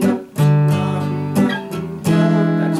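An acoustic-style guitar strums chords from the chorus of a song, with three ringing strummed hits that sustain and fade between strokes, close and alone without talk.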